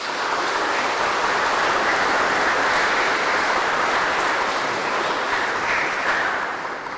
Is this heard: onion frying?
no